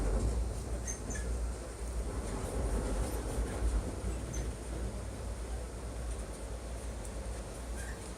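A continuous low rumble of a train rolling along rails, with faint squeaks and occasional clicks over steady rattling, heard from inside the carriage.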